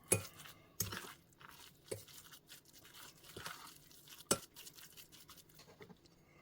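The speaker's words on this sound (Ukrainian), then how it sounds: "Кладемо масличко, гарно його розминаємо, перемішуємо, щоб маса стала однорідною" Soft room-temperature butter being mashed and stirred into a smooth spread in a bowl, with irregular scraping and clinking of a utensil, a few sharper taps, fairly quiet and close, no talking.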